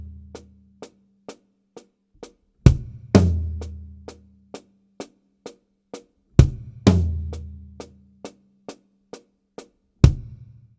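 A drum groove played with loud accents on the floor tom and soft, quiet snare strokes in between, a steady sparse pulse of light taps broken by booming, resonant tom hits that ring out, played alone.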